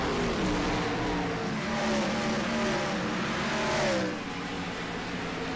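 Stock race cars in a retro cup series race at Bristol, engines roaring loudly and continuously with rising and falling pitch as cars run close together, one surge fading near the end.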